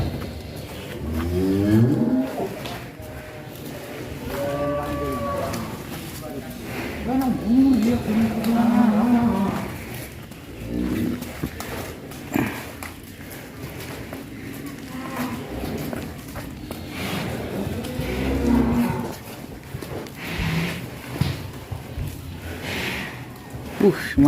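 Large, heavy qurban cattle low and moo as they are led out of their pen one after another, deep calls repeating near and loud, with vehicle engine noise and people talking throughout.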